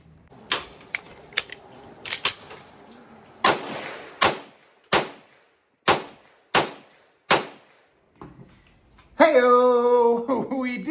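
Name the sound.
customized Glock 17 race gun pistol firing live rounds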